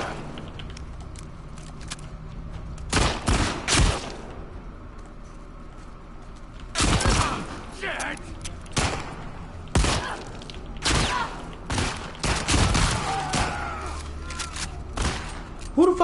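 Gunfire from The Last of Us Part II, loud bursts of shots in several clusters with impacts and thuds between quieter stretches, close and punchy.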